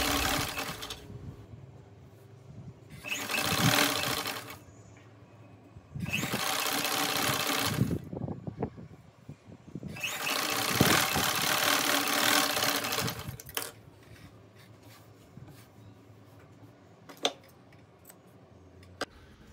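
A sewing machine stitches a cotton jeans top cut from one metre of fabric, running in several loud whirring bursts of a few seconds each, separated by short pauses and quieter handling noises.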